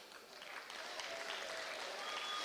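Clapping swells up from quiet into full, steady applause from a school Veteran's Day assembly audience, continuing evenly to the end with a faint high whistle near the close.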